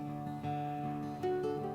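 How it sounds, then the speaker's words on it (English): An acoustic guitar with room reverb plays sustained ringing chords with a couple of soft strummed attacks, heard as a quiet recording without voices. "So that's an acoustic guitar with room reverb on it."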